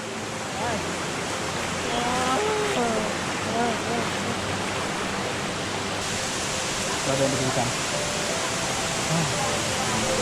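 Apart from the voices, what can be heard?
waterfall on a mountain trail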